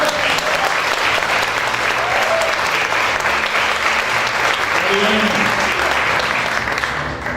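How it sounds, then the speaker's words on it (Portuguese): A literary festival audience gives a big, sustained round of applause for a guest, dense and loud clapping filling the whole stretch without a break. "Um grande aplauso para o Washington Curto."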